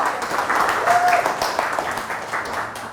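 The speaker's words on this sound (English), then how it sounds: "Give a big round of applause." An audience claps loudly and continuously at an enterprise challenge launch event, a dense, steady wave of applause that slowly fades, with voices mixed in.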